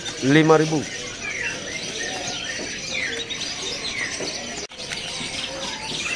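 Canaries at a bird market kiosk chirp and trill in a busy stream under market din, with a person talking briefly at the start.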